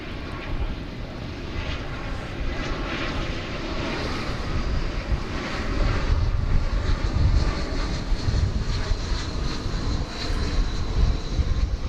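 A jet airliner at DFW Airport roars past, a loud broadband engine rumble that swells and builds in the low end midway through, heard from nearby without talk.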